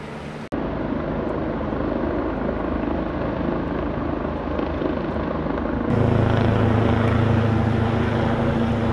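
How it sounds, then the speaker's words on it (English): A rescue helicopter over the Pyrenees mountains gives off a steady, loud rotor and engine drone that fills the whole clip and grows fuller and louder for the last few seconds, with no talking. "The helicopter's just turned up,"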